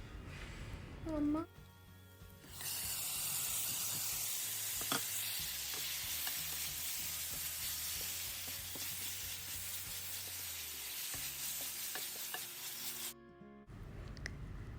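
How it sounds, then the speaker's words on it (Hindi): Marinated chicken with garlic frying in a pan over high heat gives a steady, loud sizzle that starts after a brief pause and runs unbroken, with occasional stirring scrapes, then cuts off near the end. "तेज़ आंच पे मैंने उसको थोड़ी देर के लिए भून लिया था"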